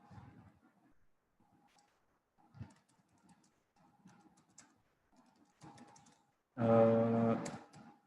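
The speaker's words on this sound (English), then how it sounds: "just typing in some answers" Sparse, quiet clicks of keys being pressed on a computer keyboard come in short irregular runs with pauses between, ending in a brief loud tonal burst near the close.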